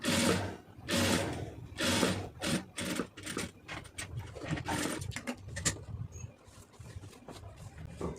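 An electric sewing machine whirs in repeated close bursts of stitching as lace is sewn around a round neckline on a garment, with short pauses and handling noises between runs.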